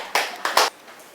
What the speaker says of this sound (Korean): 다 같이 네 감사의 박수를 작게 칠까요